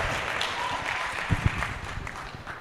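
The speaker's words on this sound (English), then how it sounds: "A big applause for him, for our host." Forum audience applauding their host at the Kenya School of Government during a youth adaptation event, a steady broadband clapping wash lasting throughout with a couple of sharper bursts midway.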